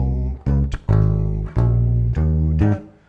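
A bass guitar plays a bass line as a short phrase of distinct, punchy low notes with brief gaps between them, loud and close, with no talking.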